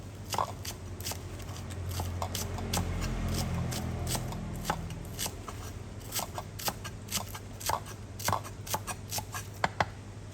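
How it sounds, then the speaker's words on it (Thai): Knife chopping scallions and coriander on a board, sharp irregular taps that quicken into a steady rhythm, close by with a low hum underneath. "หั่นเป็นท่อนเล็กๆ"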